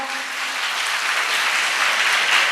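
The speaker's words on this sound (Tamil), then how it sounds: "ஒரு பெரிய கைத்தட்டு கொடுங்க பார்க்கலாம்" Audience at a Tamil debate-forum event in Virudhunagar gives a big round of applause for the women, steady broadband clapping filling the hall throughout, loud and sustained.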